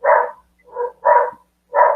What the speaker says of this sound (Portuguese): minha cachorrinha está brava